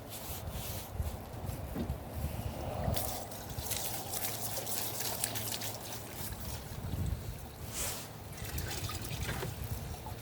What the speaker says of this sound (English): I got water running in the sink.